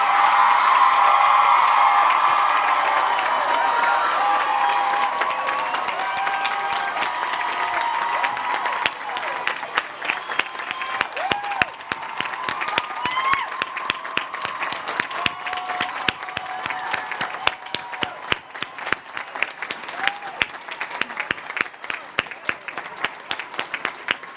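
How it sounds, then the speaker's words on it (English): A commencement audience at Barnard College applauds and cheers at length, a loud dense roar of clapping with whoops at first, thinning over time into scattered individual claps that continue to the end. "You may now applaud as long and as loudly as you would like"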